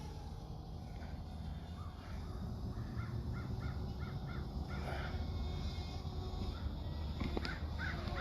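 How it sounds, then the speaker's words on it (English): Several crows caw repeatedly in the distance over a steady low outdoor rumble at sunset by the Wabash River, calls coming in short clustered bursts. "You hear all them birds out?"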